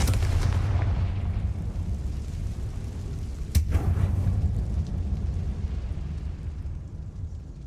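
A Confringo spell explosion in Hogwarts Legacy, fired inside a closed mine tomb: a heavy rumbling blast with a sharp crack mid-way, trailed by a long, low, fading roar.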